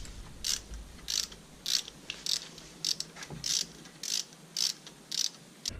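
Ratchet with a 12 mm socket and extension loosening a heat shield bolt on a Honda Civic Si, a steady series of about nine crisp, clicking ratchet bursts in even rhythm, close and fairly loud, no talking.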